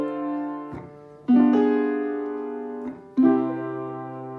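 Piano sounding jazz chords with a flattened ninth. A few sustained voicings are struck one after another, each ringing out and slowly decaying, moderately soft and close, with no talking.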